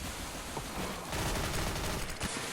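Rapid MP7 submachine gun fire in Counter-Strike: Global Offensive during a competitive match, dense overlapping bursts of shots heard loud and continuous throughout, with no talking.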